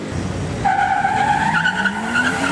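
A BMW E36 and a Chevy launch down a drag strip with screeching tires and engines rising in pitch, loud and close for a couple of seconds.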